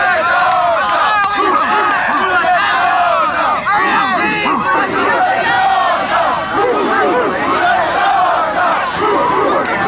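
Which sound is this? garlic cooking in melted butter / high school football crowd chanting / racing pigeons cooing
high school football crowd chanting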